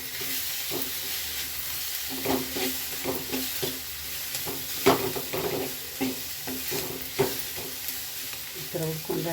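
Tomatoes fry in a pan for spinach (palak) gravy: a continuous sizzle with repeated spatula scrapes and knocks in an irregular rhythm, close by.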